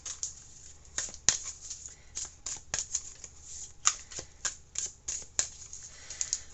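Starseed oracle cards being shuffled by hand, a close, crisp run of quick riffling flicks and soft slaps in an irregular rhythm with no voice over them.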